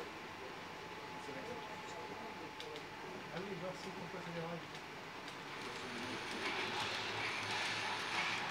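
A model train runs on a club's model railway layout with a single bidirectional track, giving a steady, quiet rolling rumble with light clicks that swells slightly toward the end, under a voice talking.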